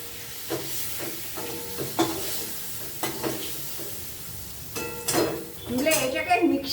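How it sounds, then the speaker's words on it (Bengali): Prawns frying in a pan with a light pinch of salt, steady sizzle with a few scraping stir strokes, a louder burst of spitting and clatter near the end; a voice talks briefly over it. "আমার চিংড়ি মাছ ভাজা হয়ে গেল।"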